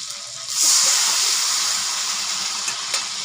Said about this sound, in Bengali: আমি এর মধ্যে দিয়ে দিব অল্প কিছু জল